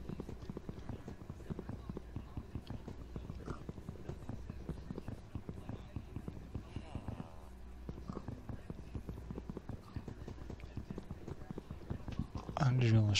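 Horse hooves clip-clop in steady walking rhythm in Minecraft, a continuous run of close, even steps with game ambience underneath.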